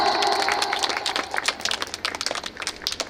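Scattered clapping from a group at an event, the individual hand claps sharp and uneven and the sound tapering over a few seconds with some background murmur.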